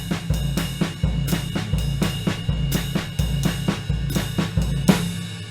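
Jazz drum kit playing a repeating triplet figure of two snare hits followed by a kick, cycling steadily about eight times, each cluster bright and punchy with a booming low kick, close and alone.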